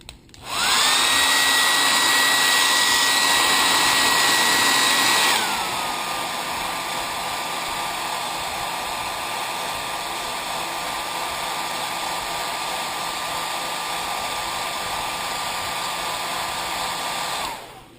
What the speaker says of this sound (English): This is just a standard hair dryer from the thrift store.